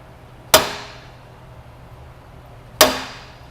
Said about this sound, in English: we'll use a rubber mallet to drive this taper lock